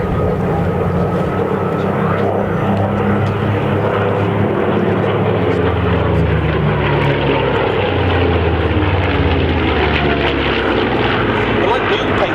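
A Hispano Buchón Bf 109 and two Yak-3 warplanes fitted with Allison V1710 piston engines roar past at an airshow at Duxford, a loud continuous propeller drone rising and falling in pitch as they fly by, with talk underneath.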